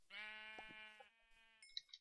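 Sheep in the video game Minecraft bleat in a long, wavering call up close, followed by a few quieter clicks and short game sound effects.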